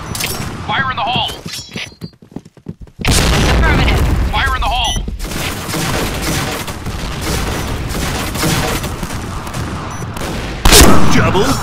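Point Blank shooter match: a heavy grenade blast booms, then dense, continuous close gunfire rattles on. Game voice lines and shouted callouts sound over the shooting.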